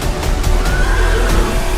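A horse neighs loudly in a movie trailer for an action film, a single drawn-out whinny with shaky pitch, close and prominent over a low rumbling score.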